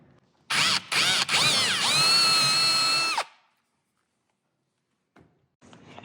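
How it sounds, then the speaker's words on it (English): A power drill whines loudly for under three seconds drilling a hole for a kitchen drawer slide, with brief stutters at the start, then stops, leaving quiet and faint shuffling. "Now that we have our hole drilled"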